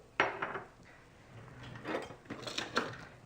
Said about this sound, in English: Just me getting a spoon.